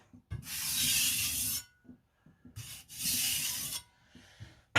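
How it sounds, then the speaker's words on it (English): A knife blade rubbed in two long, steady strokes across a sharpening stone to remove the burr, each pass a close, even rasping swish with short gaps and faint taps between. "This is actually pretty easy to deburr."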